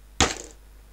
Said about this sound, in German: Was passiert, wenn ich einfach auf meinen Tisch drauf klatsche?